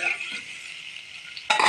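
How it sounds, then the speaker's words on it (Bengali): Potatoes and eggs stirred in hot oil in a wok, giving a steady close sizzle with light scraping and clinks, ending in a louder stir. "আমার সেই আলু আর ডিমগুলো আমি কড়াইতে ঢেলে এখন আস্তে আস্তে নাড়া দিতে হবে"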